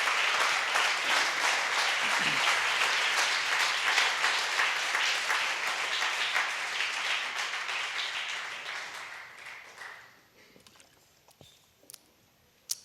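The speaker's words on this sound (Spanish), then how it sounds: "dale un aplauso al Señor" A church congregation applauds in sustained, dense clapping that gradually thins and fades out near the end, leaving a few isolated sounds in near silence.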